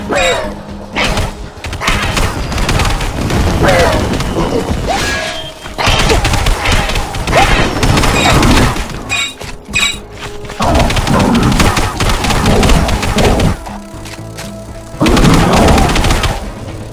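Enemy weapon gunfire in the Xbox 360 game Backyard Heroes, loud repeated shots and thuds in dense bursts over about seventeen seconds, with brief gaps between volleys and game noise underneath.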